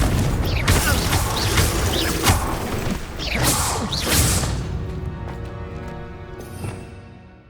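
Confringo fire spell cast in Hogwarts Legacy on PS5: several whooshing bursts and booming impacts in quick succession, loud and close, fading into a ringing tail.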